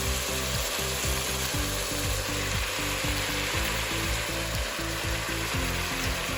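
Beef chuck for a roast stew sears in a pan, giving a loud, continuous sizzle over a rhythmic low thumping and rattling that repeats throughout.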